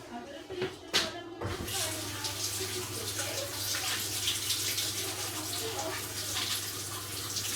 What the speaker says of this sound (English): I can just give that bit more of a rinse